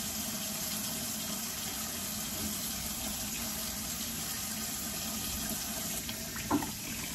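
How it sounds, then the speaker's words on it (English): Water pouring steadily from a tap while hands are washed, a constant close rushing hiss throughout, with a brief splash or clatter near the end. "Wash my hands."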